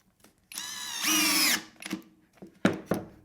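A Skil Flip drill/driver on clutch setting 9 drives a screw: a close whir that rises for about a second and stops, followed by a few short, sharp bursts of motor and clutch clicking.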